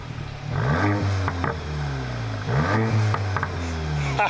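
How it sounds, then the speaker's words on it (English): A VW Golf GTI MK8 fitted with a Milltek exhaust is revved twice while standing, each blip rising sharply then falling back to a steady idle, loud and close. "Give it some revs, Greg."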